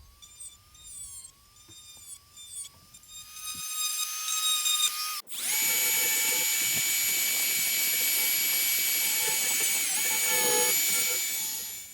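A handheld rotary tool fitted with a coarse burr carves a wood spirit face into wood. Its high, whining motor rises and falls through short cuts, then holds one loud, continuous grinding whine.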